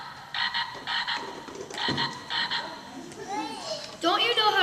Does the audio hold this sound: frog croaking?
yes